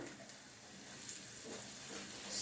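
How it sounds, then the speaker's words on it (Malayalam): Ginger, garlic, slit green chillies and curry leaves sauté in a pan over a high flame, a steady broadband sizzle that holds evenly throughout and swells slightly toward the end. "ഇഞ്ചി, വെളുത്തുള്ളി, പച്ചമുളക്, 2 പച്ചമുളക് കീറിയത്, കറിവേപ്പില, ഇത്രയും നമുക്ക് വഴറ്റാം."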